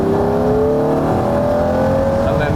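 A Ferrari 365 GTB/4 Daytona accelerates on an open road, its engine note climbing steadily in a loud, close, continuous roar.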